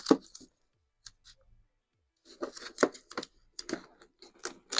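Blue masking tape pulled and stuck around a fine-line edge on a Losi NASCAR car body: a single tear near the start, then a busy second half of quick crinkling rips and presses, close and fairly quiet, with no talking.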